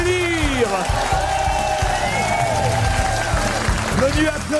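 An arena crowd at the Estérel Arena in Saint-Raphaël applauds a comedy show, dense continuous clapping filling the space while a presenter's voice speaks over it.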